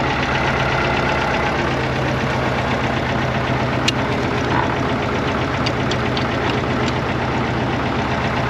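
Six-cylinder engine of a Case 970 or McCormick-Deering W9 farm tractor idling steadily and loudly up close, a rough knocking chug running unbroken throughout, with a few faint clinks on top.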